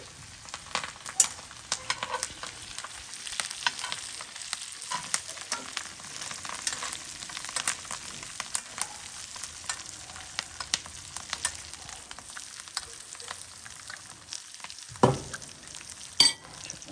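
Halibut fillets sizzle steadily in a hot pan while being basted with butter, a close, constant frying hiss broken by scraping and clinking from a spoon, with no talking.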